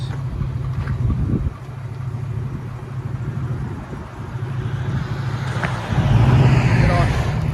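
A 2017 Ford F-150 with the 5.0L Coyote V8 and a Flowmaster Flow FX exhaust idles with a low steady rumble, then swells louder near the end as the truck moves close by, with voices talking over it.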